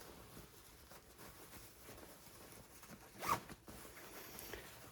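A zipper on 5.11 Tactical Apex or Ridge trousers is pulled in a quiet room, giving a soft continuous rasp that peaks in one sharper zip near the end.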